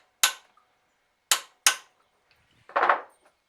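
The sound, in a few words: hammer striking a center punch on a screw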